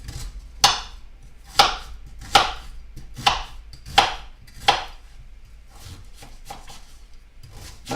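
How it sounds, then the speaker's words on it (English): Knife chopping an onion into big chunky pieces on a board, six crisp, evenly spaced cuts close by, then softer, quicker taps trailing off, no talking. "I'm going to go ahead and cut the onion."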